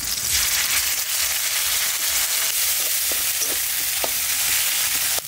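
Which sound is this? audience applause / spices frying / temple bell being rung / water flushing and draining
spices frying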